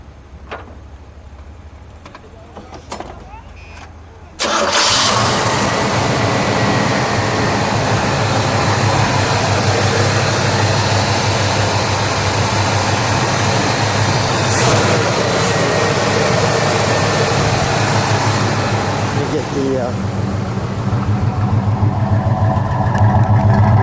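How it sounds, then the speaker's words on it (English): A 1979 Pontiac Trans Am with the 6.6 engine is quiet at first, then fires up abruptly into a loud, steady, rumbling idle that holds evenly for the rest of the time. "We'll let it idle."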